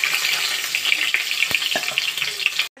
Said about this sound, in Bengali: তো আমি তিতির জন্য কিন্তু মাছটা ভাজতেও বসিয়ে দিয়েছি।